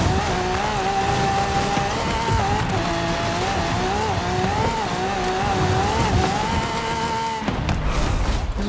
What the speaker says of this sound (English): that car that just went flying by that honked was the rammer, but it wasn't. That was a Hoonigan RS200.